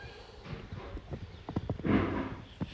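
Horses moving about loose on a horse farm, hooves clip-clopping in uneven bursts on hard ground with snorts and movement nearby, moderately close and unaccompanied by talk.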